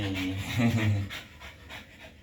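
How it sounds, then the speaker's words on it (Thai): A pregnant dog pants quickly and audibly up close, rhythmic breathy huffs that are strongest at first and then ease off toward the end, with some voiced breath mixed in. "ก็ยังยังมีหอบนิดๆนะครับนะ"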